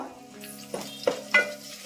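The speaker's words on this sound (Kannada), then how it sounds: "ಸ್ವಲ್ಪ ಫ್ರೈ ಮಾಡ್ಕೊಂಡ್ಬಿಡೋಣ" Soft sizzling of dried red chillies and curry leaves frying in oil in a pan, with a few light metallic stirring taps.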